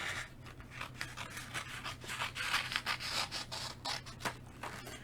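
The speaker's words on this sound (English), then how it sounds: "Let me grab out my snips and kind of cut along there." Snips cutting along a sheet of decorative paper in a quiet room, a steady run of soft rasping, scraping snips with brief louder crunches as the blades close, close and fairly faint.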